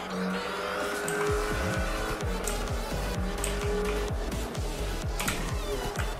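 A fast car in the GTA V FiveM video game races through city streets, its engine revving hard with repeated rapid pulses and tire squeals, loud and close, with a voice speaking over it.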